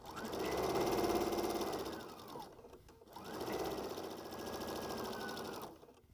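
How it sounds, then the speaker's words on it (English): A sewing machine stitches a quarter-inch seam down each side of a pinned bench pillow, running steadily in two long bursts with a short pause between, loud and close. "I'm gonna take it to the machine and sew 1/4 inch down each side"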